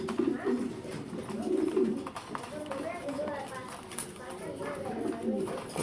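Pigeons coo in a low, repeated rolling pattern, close and moderate in volume, alongside faint rustling and occasional shuffling.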